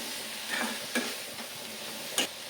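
Brinjal (eggplant) sizzles in a pan with turmeric and salt while a utensil stirs it, giving a few sharp scraping strokes over a constant, fairly quiet frying hiss.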